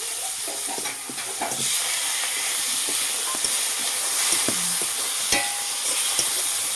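A spoonful of turmeric paste fries in a hot pan for a fish curry, giving a steady close sizzle and hiss with occasional clicks of stirring, and no voices.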